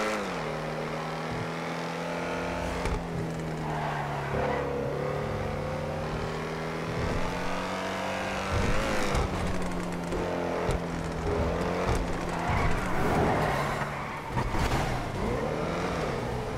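Car driving in a video game, a loud continuous engine drone that climbs and drops through gear shifts, with brief tire squeals and bumps, no talking.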